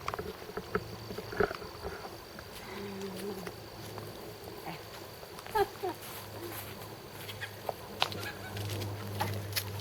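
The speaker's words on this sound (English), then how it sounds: "Troy's herd of chickens." A backyard flock of chickens clucks softly and intermittently at a distance, quiet scattered calls over low steady background hum.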